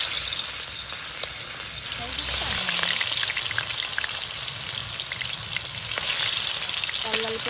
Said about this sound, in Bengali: তেলে মাছ ছেড়ে দেব